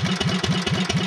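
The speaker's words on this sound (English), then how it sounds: "I put a Generac 30-horse engine on there" Generac 30-horsepower engine fitted to a Cub Cadet 1650 hydrostatic tractor runs steadily close by, a rhythmic, throbbing low chug with regular pulses and no speech.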